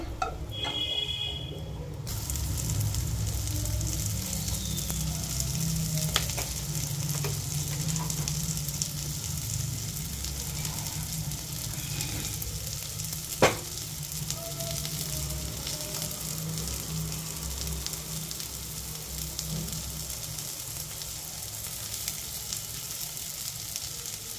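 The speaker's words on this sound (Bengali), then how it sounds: "ভাজা চলছে" Chicken sizzles and fries in a pan with garam masala over lowered heat, a steady, soft crackle running continuously, with a couple of brief utensil clicks partway through.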